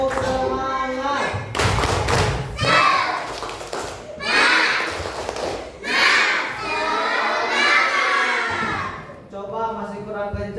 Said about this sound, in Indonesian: coba kita praktekkan tepuk semangat